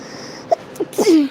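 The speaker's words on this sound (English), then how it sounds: "And then we keep sneezing." A sneeze bursts out near the end, loud and close, following a couple of smaller sniffs or catches of breath.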